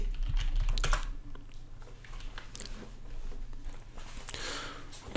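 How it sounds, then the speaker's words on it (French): Fingers type a search on a computer keyboard, a close run of quick clicking keystrokes in irregular bursts over a low steady hum, with no talking. "Et on tape Cisco."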